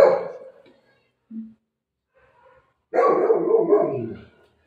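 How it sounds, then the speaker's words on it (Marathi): A golden retriever barks at home as other dogs bark outside, in two short bursts with a quiet gap between them, the second burst longer and fuller. "ते बाहेर दुसरे कुत्रे लोक भोकायला लागले, ही पण वरडायला लागली."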